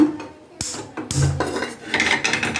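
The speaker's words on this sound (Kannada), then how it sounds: "ಈಗ ಫಸ್ಟು ಕುಕ್ಕರ್ ಇಟ್ಕೊಳ್ಳೋಣ" A pressure cooker is put in place for cooking toor dal with beans, producing a few sharp metallic clanks and scrapes of cookware close by, with no voices.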